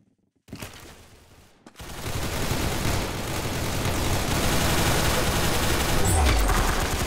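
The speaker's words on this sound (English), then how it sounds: "Very good shooting." Dense, continuous burst of gunfire from shooting in the Roblox video game, loud and sustained after a brief silent start, rattling like rapid automatic fire.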